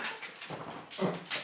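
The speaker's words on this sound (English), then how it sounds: "The dogs are all getting upset again." Several dogs whimper and yip in short, high, whining bursts, fairly faint and intermittent, as if upset in a nearby room.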